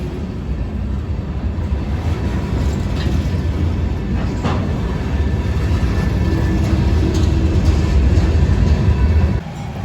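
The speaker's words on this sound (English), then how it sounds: "Last month I got to see these SD40-2s rebuilt for Savage Industries out being test run on the local coming through town." Rebuilt SD40-2 diesel locomotives for Savage Industries on a test run with the local through Aberdeen, North Carolina, a loud continuous engine rumble and rolling rail noise passing close by, with no voices, cutting off sharply at the end.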